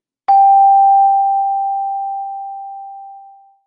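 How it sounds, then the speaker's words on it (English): An English handbell rung once as a singing bell, giving a single clear struck tone with a bright attack that sustains and slowly fades over about three seconds, alone and fairly loud. "Singing bell is just a way to get a sustained sound, and chimes go on forever."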